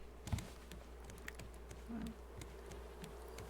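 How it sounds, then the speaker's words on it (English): A faint, low buzzing of bees in the video game Raft drones on with small clicks and taps scattered throughout, fairly quiet and steady. "here we have the noisy bees. They're really noisy"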